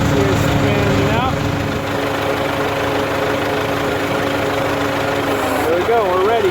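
A hay mower's engine drones steadily in a field, a loud, even mechanical hum holding throughout, with a voice speaking over it at moments and a wavering tone near the end.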